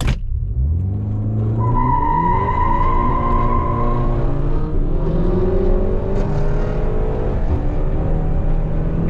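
Car fitted with a DSG gearbox accelerating hard in a street race against a BMW M5, loud close engine roar with rising harmonics climbing through the revs, steady and sustained with no talk.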